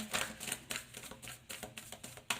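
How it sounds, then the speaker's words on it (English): Tarot cards shuffled by hand, a run of quick papery riffles and flicks in uneven bursts, close and fairly quiet, with no talk. "So let's shuffle, see what comes out."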